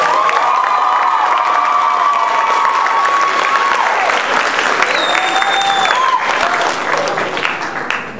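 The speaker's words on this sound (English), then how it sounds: "Give her another round of applause." Loud, sustained audience applause after a poem, mixed with cheers and whoops from the crowd, tapering slightly toward the end.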